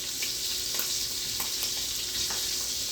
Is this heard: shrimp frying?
yes